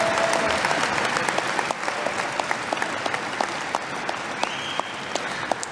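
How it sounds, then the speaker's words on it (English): A crowd applauding at a graduation commencement ceremony, dense clapping that holds steady and thins slightly toward the end, with a few sharper individual claps standing out. "How about a round of applause?"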